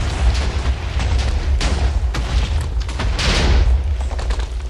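TNT detonates in Minecraft with loud, rumbling booms, several blasts overlapping into a continuous deep roar with crackling bursts for the whole stretch.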